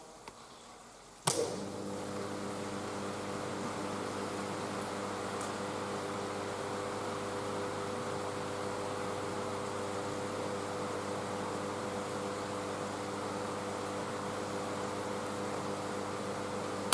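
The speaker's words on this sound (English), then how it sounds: "Misty rain." Misty rain sound effect starting abruptly after near silence, a soft, even hiss of fine rain that holds steady and faint throughout with a faint low hum beneath.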